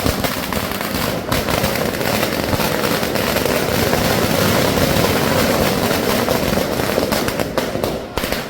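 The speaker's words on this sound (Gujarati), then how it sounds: "ફટાકડા ફૂટેલા." Firecrackers burst during a Navratri goddess idol immersion procession at Dussehra, a dense, loud, continuous crackle of rapid pops merging into a roaring wash with no pauses and no talking.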